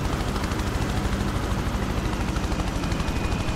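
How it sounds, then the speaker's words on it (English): Helicopter in the open-world action game Prototype, a steady close rotor roar with rhythmic blade thumping throughout, loud and continuous with no talking over it. "now we are driving a helicopter"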